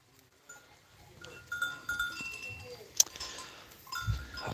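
Mountain-breed goats in a rural farm pen, heavily pregnant does near kidding, give faint, scattered bleats amid soft rustling, a sharp clink and low shuffling.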